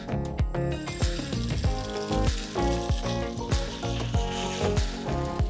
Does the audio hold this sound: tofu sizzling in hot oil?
yes